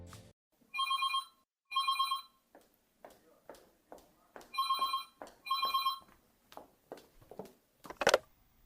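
A telephone ringtone plays in two paired bursts of electronic rings, quiet and close. Soft clicks and handling noises fill the gaps, and a short sharp sound comes near the end.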